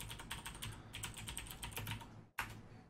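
Fast, steady typing on a computer keyboard, dense clicks close to the microphone that cut off briefly before one last keystroke, with no voice over them.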